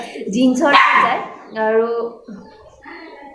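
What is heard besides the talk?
dog barking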